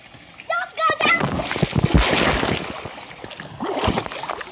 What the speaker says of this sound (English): Oh wow, I got so big splash.